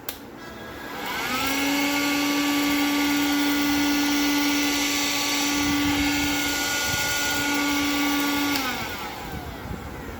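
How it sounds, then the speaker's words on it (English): A Kent Cyclonic cordless wet and dry vacuum cleaner runs steadily for about eight seconds with a loud, high whine, starting and stopping cleanly with nothing else over it. "this would be the actual noise coming out from the vacuum cleaner"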